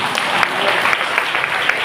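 An audience claps steadily at a church family blessing meeting in Thinayathur, many hands forming a dense, fairly loud wash with faint individual claps poking through.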